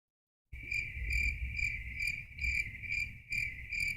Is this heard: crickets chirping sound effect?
yes